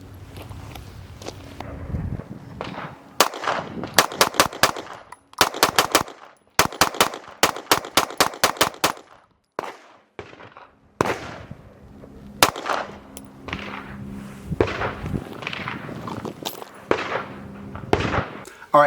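Factory-ported 2011 pistols fire at a shooting range in rapid strings of sharp, loud cracks. Quick bursts come in clusters separated by brief pauses, with faint movement and handling noise between volleys.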